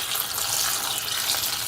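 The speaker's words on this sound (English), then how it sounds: "we're going to add some water to these peppers" Water pours steadily into a cooking pot holding peppers for Javanese hot sauce, a continuous broadband splashing rush close to the mic, with no break in the flow.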